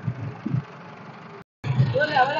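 A tractor engine idles with a low, steady rumble while hitched to a trolley, briefly cutting out, then resuming with a voice speaking over it.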